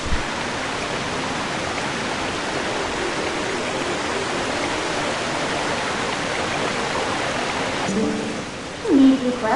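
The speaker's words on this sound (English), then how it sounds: "not only is it raining, but now all the water has returned" Rain and rushing, flowing water in the video game Zelda: Twilight Princess, a steady, dense hiss that fills the whole stretch without letup before easing slightly near the end.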